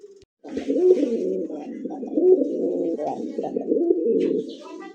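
A male Bombay pigeon coos loudly and close, a continuous throaty, rolling series of low coos after a short silent start.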